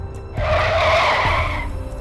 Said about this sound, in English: he slammed on the brakes and slid to a stop to avoid hitting it